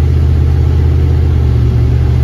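A turbocharged LS-swapped Caravan engine drones steadily while driving, a loud, continuous low rumble with little change in pitch across the short stretch, no voices.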